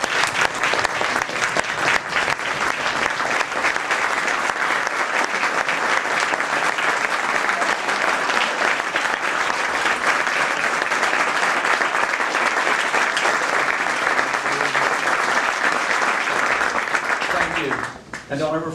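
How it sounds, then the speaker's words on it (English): A standing audience at an ethics bowl final claps loudly and steadily for nearly eighteen seconds, a dense, sustained roar of hands that stops abruptly as a voice begins. "I'd like for you to lead the applause as we all stand in recognition one more time"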